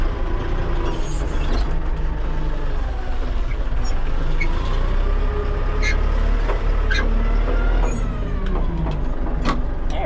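A four-wheel-drive farm vehicle rumbles along in a loud, steady low drone, with gear and engine whine shifting over it, close up and continuous throughout.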